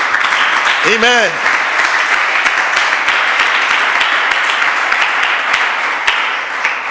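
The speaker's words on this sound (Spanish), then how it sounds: "Den un aplauso fuerte a Jesús." A church congregation claps loudly and steadily during a Spanish-language sermon, a sustained wash of applause with a voice briefly calling out over it near the start.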